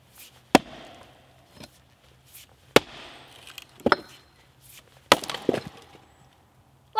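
An axe splits large, fresh wood rounds outdoors with a handful of sharp, loud chops and cracks spaced a second or two apart, some followed by splintering and the thud of falling pieces.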